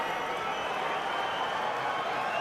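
A capacity arena crowd of over 16,000 at a boxing match roars and applauds in a dense, steady wash of noise, with a commentator's voice faintly beneath.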